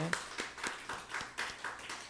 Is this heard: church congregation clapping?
yes